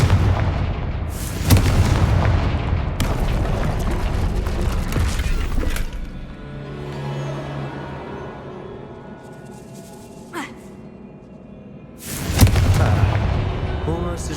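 Fiery Confringo spell blasts from the Hogwarts Legacy video game boom out in heavy, rumbling bursts, loud and close, with a softer gap mid-sequence before another big blast.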